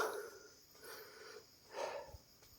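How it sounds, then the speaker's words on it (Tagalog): Heavy, labored breathing from someone climbing the 930 hill steps at Tayak Hills, with close, raspy breaths and snort-like exhales in a slow uneven rhythm, fairly faint with no speech. "grabe na hingal ng isa kong kasama"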